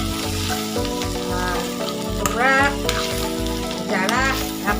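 Cabbage with cardamom sizzles and fries steadily in a pan as it is stirred, a continuous close frying hiss under faint background voices and music.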